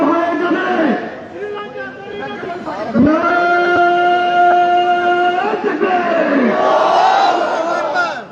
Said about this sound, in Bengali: ব্যাংকের সামনে নারায়ে তাকবীর স্লোগান দিয়ে মববাজি করে